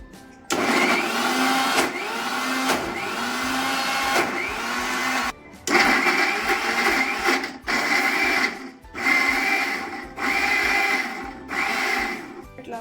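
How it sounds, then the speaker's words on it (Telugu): A kitchen mixer grinder whirs loudly in repeated bursts as it crushes five or six ice cubes while ghee is made at home, each run broken by short pauses. "ఇట్లా వేసుకొని మిక్సీ పట్టేద్దాం"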